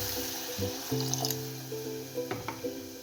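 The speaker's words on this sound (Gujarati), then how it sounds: "અને હવે આમાં થોડુંક એડ કરશું આપણે પાણી" Water pours and splashes briefly into a pot of cooking gravy, liquid gurgling against a steady background hum, close and moderately quiet.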